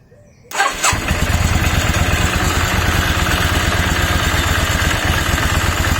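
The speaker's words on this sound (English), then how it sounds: "While the key's on and that's on, the starter motor keeps spinning even when it's running." Yamaha XVS650 Dragster motorcycle engine bursts into life with a starter whir, then settles into a loud, close, steady rhythmic idle with the starter motor still spinning, no talking.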